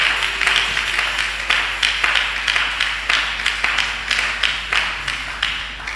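A church congregation claps in a steady, rhythmic pattern, with many hands striking together in regular beats over a low room hum and no speech.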